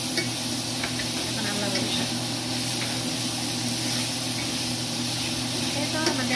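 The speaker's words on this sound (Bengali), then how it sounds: "রান্নার লাস্ট স্টেপ বাংলাদেশে যেভাবে শাক ভাজি করতাম ওইভাবেই করতাম" Leafy greens, Bangladeshi-style shak bhaji, frying and being stirred in a pan at home, giving a steady close sizzle and hiss throughout with occasional scraping of a utensil.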